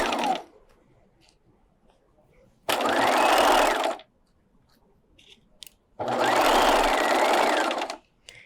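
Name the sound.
sewing machine stitching skirt waistline at 5/8 inch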